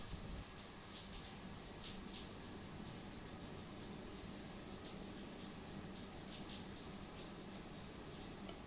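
Shower water runs steadily in the video game World of Horror, a soft, even, unbroken hiss of spray that stays faint and distant with no talking.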